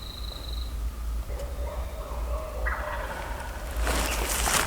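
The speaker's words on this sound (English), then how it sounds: "Still got a few minutes before this turkey start gobbling." A wild turkey gobbles in an open field on a cool, calm spring morning in Alabama, a distant rattling call rising near the end over steady outdoor ambience.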